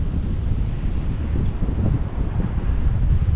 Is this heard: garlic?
no